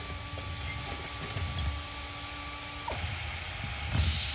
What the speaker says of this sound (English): Okay, time to use the oil filter wrench again.